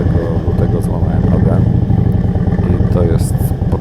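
A motorcycle engine drones steadily at close range, with wind rumble and a voice talking over the continuous motor noise.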